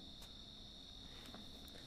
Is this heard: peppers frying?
no